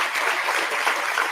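Audience at a politics forum gives a short, even burst of applause, a dense hiss of clapping hands lasting just over a second.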